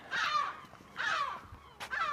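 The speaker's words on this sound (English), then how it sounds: "This seagull wants to kill me probably. I think he's aiming at me. He's literally flying on top of me." Seagull calling from overhead on an outdoor walk, three harsh, rising squawks spaced about a second apart, fairly close and clear with no talking.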